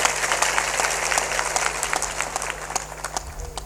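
Audience applause at a spiritual discourse gathering, steady dense clapping from a large crowd sustained throughout, moderately loud with a constant low hum beneath.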